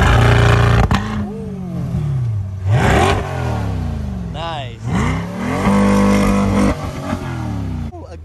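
A Chevrolet C8 Corvette with the Z51 performance package exhaust revs loudly up close, several sharp sweeping climbs and drops with crackling pops between them, and a person speaks briefly over it.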